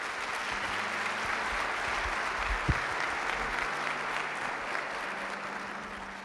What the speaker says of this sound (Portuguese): Dá um aplauso aí a Jesus.